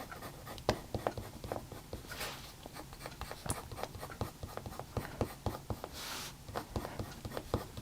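A coloured pencil makes quick, light strokes on paper, a dense run of short scratchy ticks in an irregular rhythm, close and fairly quiet.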